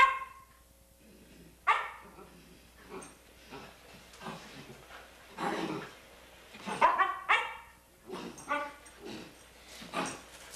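A dog barks, yips and whimpers during indoor play wrestling with people, short excited bursts scattered over several seconds at close range, with a few voices in the room between them.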